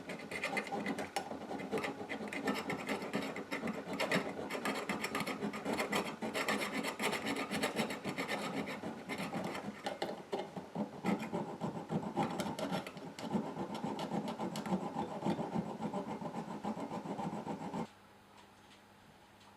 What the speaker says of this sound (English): So I will need to file the points off the tops of the rivets. So I'll do this with a small flat file.